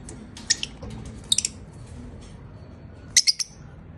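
Lovebirds from a large breeder pair give short, sharp, high chirps in three quick clusters, close by, with quiet gaps between them and no talking.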